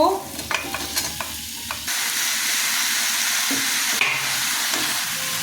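Tomato and vegetables dropped into spice paste frying in a pan, a few clinks and stirs giving way to a loud, sustained sizzle with hiss of steam, no voices.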